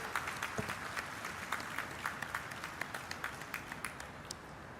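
An audience at an LG Electronics groundbreaking ceremony in Sri City applauds the dignitaries on stage with steady, dense clapping, heard at moderate volume from across the venue.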